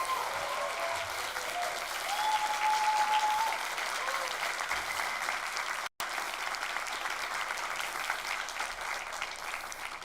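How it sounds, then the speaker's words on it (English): Audience applause rising at the close of a TEDx talk event performance, a broad steady wash of many hands clapping that holds for the full stretch with a brief dropout midway. "Please give them one more round of applause."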